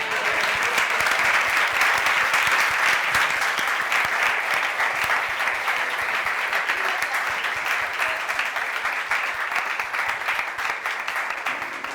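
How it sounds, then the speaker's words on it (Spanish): Sustained audience applause at a theatre event celebrating the Spanish language, dense steady clapping filling the room throughout and tapering slightly toward the end, with no speech over it. "Aquí a veces, cuando el público es bueno, aplaude."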